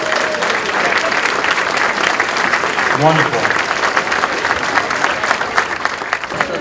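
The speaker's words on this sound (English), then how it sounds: "Nice round of applause for the Liam Harney dancers, please." Audience applause fills a St. Patrick's Day luncheon hall, steady clapping from a crowd for Irish dancers, with a brief spoken word from the host over it.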